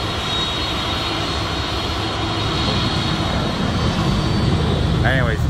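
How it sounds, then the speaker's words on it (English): An airplane takes off at an airport, its engine roar loud and steady, swelling slightly over several seconds. "There's another airplane taking off behind me."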